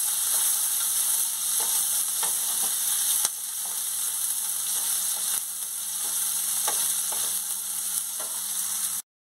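Chopped onions fry in a pan with a loud, even hiss of sizzling oil, marked by faint stirring scrapes, before the sound cuts off abruptly at the end.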